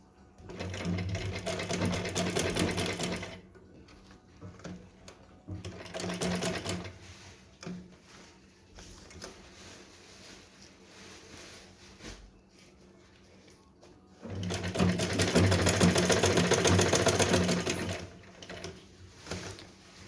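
A sewing machine stitches a Laddu Gopal dress in three bursts, two early runs of a few seconds each and a longer final one, with quieter handling between them; no one speaks.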